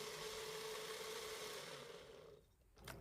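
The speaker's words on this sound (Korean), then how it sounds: "믹서기에 갈아줍니다." A blender's motorized whirring hum grinds pear, apple, onion and garlic steadily, close and fairly quiet, then winds down near the end followed by a brief clatter.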